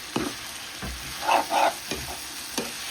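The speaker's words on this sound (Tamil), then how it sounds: "நல்ல வடிவாக தக்காளி வதங்கிட்டு நான் மீட்டை வந்து சேர்க்கிறேன்." Minced meat sizzles in a pan with softened tomatoes while a spoon stirs it, giving a steady close frying hiss with a few louder scraping strokes and no talking.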